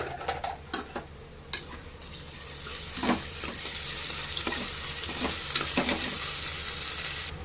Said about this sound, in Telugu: ఇది కూడా పచ్చి వాసన పోయే వరకు అలా ఫ్రై చేసుకుందాం